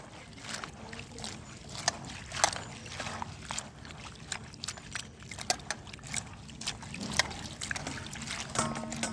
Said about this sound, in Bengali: তো বাঁধাকপিটা এখানে এখন ধুয়ে নিচ্ছি